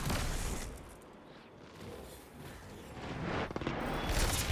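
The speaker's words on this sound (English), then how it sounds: "Oh, didn't mean to throw that grenade." A grenade blast in the Fortnite video game, a broad loud boom at the start that fades and swells back into rumbling noise, with no talking.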